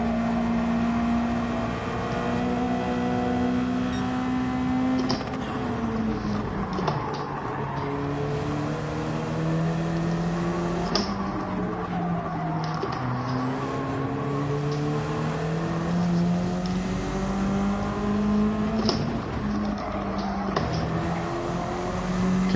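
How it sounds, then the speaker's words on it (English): Race car engine in a racing video game, a loud, continuous, overpowering drone whose pitch rises and falls through repeated gear changes and revving across the lap. "Just sounds completely different than all the other cars."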